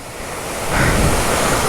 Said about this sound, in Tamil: இங்கே 2 வாட்டர் ஃபால்ஸ் வரைக்கும் அப்படியே தண்ணி.